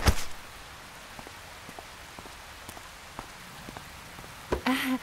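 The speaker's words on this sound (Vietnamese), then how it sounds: "Thiệt là sao cứ mưa hoài vậy không biết nữa." Rain falling in an animated cartoon: a soft, steady patter with scattered individual drops tapping nearby, a brief louder knock at the start and another near the end.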